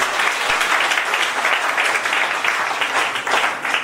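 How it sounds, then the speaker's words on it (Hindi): An audience at a business speech breaks into loud, sustained applause, a dense, even wash of clapping that lasts throughout with no voices over it. "ताली हो जाए, भगवान के लिए।"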